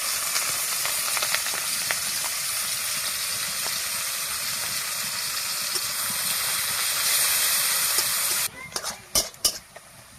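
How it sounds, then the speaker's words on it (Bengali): Chopped onions fry in white oil in a kadai with a continuous loud sizzle and occasional stirring scrapes, the hiss cutting off near the end to leave a few clinks. "পেঁয়াজটা ভাজা ভাজা হয়ে গেছে"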